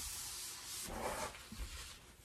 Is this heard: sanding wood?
yes